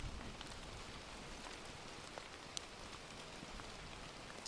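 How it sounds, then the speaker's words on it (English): Steady rain falling on a surface during a stormy evening, a dense, even hiss of drops with faint scattered ticks, quiet and continuous with no voices. "the rain falls,"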